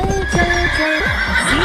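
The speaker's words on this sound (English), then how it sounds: "H for horse." A horse neighs loudly and close up, a shrill descending whinny with quavering tones, ending over faint hoof clip-clops and light background music.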